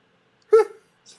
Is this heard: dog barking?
yes